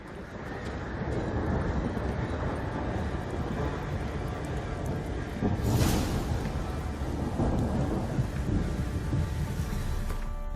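Steady rain pours in The Witcher 3, with a low thunder rumble swelling briefly around the middle before settling back into the constant downpour; no one speaks.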